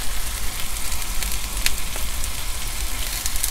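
Sausages, mushrooms and tomatoes fry in a Ridgemonkey Connect Compact XL pan with a steady, dense sizzle and crackle that stays even throughout, close by and with no talking.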